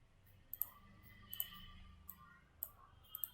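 A computer keyboard being typed on at the command prompt, heard as a handful of sparse, sharp key clicks spaced out over a few seconds, close and quiet, without speech.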